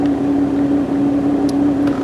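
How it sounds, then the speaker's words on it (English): A Jeep Cherokee XJ engine idles roughly with a steady low drone and a constant hum of vibration, loud and close, check engine light on, with no talk over it. "So now we got the Jeep started up. You can hear that it's running slightly rough."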